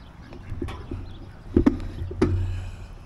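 Ducks quack a few times at close range, short nasal calls scattered over quiet outdoor background.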